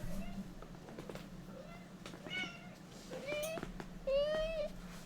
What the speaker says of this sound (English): Can you stop meowing, please?